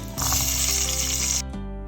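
Garlic and shallots fry in hot coconut oil with a bright, steady sizzle for just over a second, then cut off abruptly, leaving a low tonal background.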